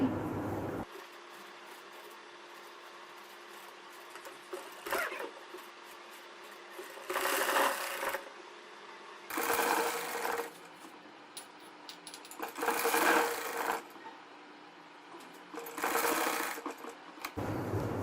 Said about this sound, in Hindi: अब हम इसको भी डबल सिलाई लगाएंगे।